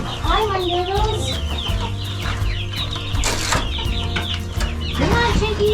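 Chickens clucking and squawking close by on a homestead on a spring morning, busy overlapping calls with a person speaking softly among them.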